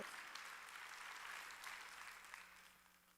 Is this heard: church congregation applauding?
yes